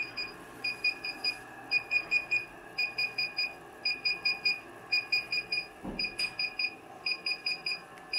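DJI Inspire 1 remote controller beeping during a firmware update, a steady pattern of short high-pitched electronic beeps in clustered groups repeating throughout, close and clear over faint background hiss.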